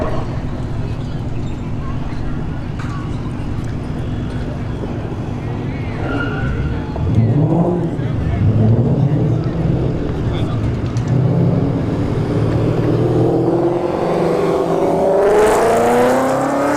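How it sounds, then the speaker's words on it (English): Two drag racing cars, an S197 Mustang and a Kia Stinger, roar loudly near the strip with engine revs and rising acceleration, the pitch sweeping upward as they launch, while a commentator talks over the noise. "we got a S197 Mustang in the left lane, a Kia Stinger in the right lane"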